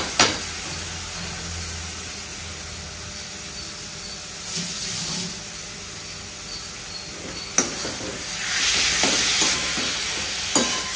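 Bay leaf and panch phoron spices hit hot oil and are stirred, a soft continuous sizzle with occasional louder scrapes and bursts of crackling, close by and with no one talking.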